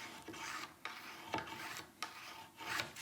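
A rounded woodworking card scraper is sharpened with short rasping strokes, about four or five rubbing passes in an uneven rhythm, close and fairly quiet, with no talking.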